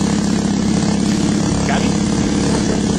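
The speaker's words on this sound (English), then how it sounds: "I'm going to make my needle changes by giving it full throttle, checking the RPM, back to idle" A model aircraft engine screams at full throttle during needle tuning, a loud, steady, close-up buzzing drone that holds constant with no break.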